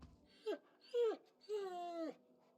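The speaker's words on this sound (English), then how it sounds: "the dog whimpers" A dog in the fantasy role-playing game Pillars of Eternity whimpers in three rising-then-falling whines, the last one long and drawn out. The sound is close and clear, with no voices over it.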